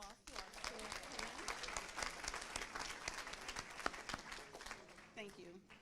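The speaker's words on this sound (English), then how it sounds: "Can we give another round of applause to our school team?" Audience applause at a school board meeting, a steady wash of clapping held across the whole stretch at a moderate level, with speech-like sounds mixed in among the claps.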